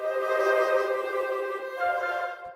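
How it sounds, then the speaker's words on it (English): An orchestral trill builder in a Christmas song arrangement, a sustained shimmering tonal layer with dense bright harmonics that holds steady and swells slightly before fading out, played alone with no voices. "the trill builder down here"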